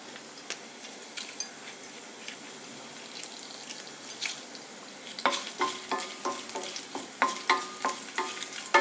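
Onions fry in a pan with dried red chilies, a quiet steady sizzle under close, repeated metallic stirring clicks and scrapes that grow busier toward the end.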